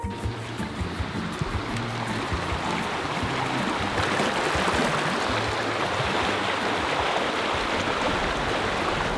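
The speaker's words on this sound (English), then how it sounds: "This is about as much as I've seen, how high I've seen this little stream of ours." A small creek running high and fast after a night of heavy wind and pouring rain, a steady broadband rush of water that stays loud and continuous throughout, with no voices.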